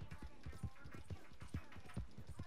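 Horse galloping in Red Dead Online, a quick steady run of hoofbeats close by with light background game noise and no talk.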